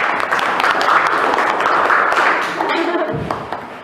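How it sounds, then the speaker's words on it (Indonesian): Classroom applause for a student named Ana, a short burst of many hands clapping at close range that tapers off near the end. "Tepuk tangan buat Ana."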